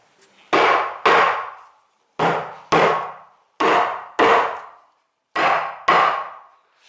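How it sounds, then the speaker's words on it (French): Wooden mallet striking a glued solid wood tabletop against a fixed clamp: four pairs of sharp, loud knocks in a regular rhythm, each pair two quick blows ringing briefly, separated by short silences. "vous prenez le maillet et vous tapez un coup pour que ça plaque bien sur le serre-joint dormant"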